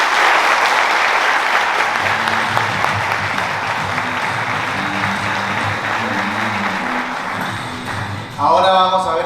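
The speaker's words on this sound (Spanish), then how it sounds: "quiero que se dé el aplauso más generoso que usted se pueda dar" Generous audience applause at a talk on orchestrating teams, a dense sustained wash of clapping for about eight seconds that swells loud again near the end with a voice cutting in.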